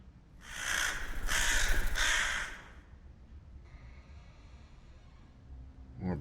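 Crows in the video game Goetia give a loud burst of harsh, rasping caws at the start, then fade to a faint background hiss with quieter rustling sounds.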